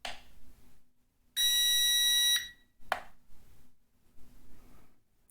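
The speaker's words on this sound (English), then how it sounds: "After the switch is successful, the remote control will emit a beep." A drone remote control for a ZLL SG908 gives one loud, sustained electronic beep of about a second after switching to optical flow mode, set among quiet handling noises and a brief click.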